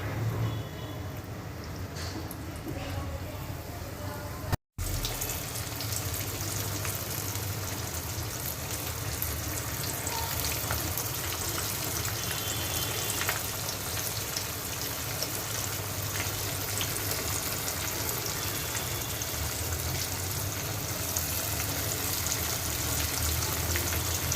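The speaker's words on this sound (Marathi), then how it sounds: "आता आपलं तेल तापलंय, आता आपण एक एक कर्ली मच्छी फ्राय करून घेऊया।" Karli fish, one piece at a time, frying in hot oil: a steady, dense sizzle holds throughout, broken by one sharp momentary dropout near the start, with no voices.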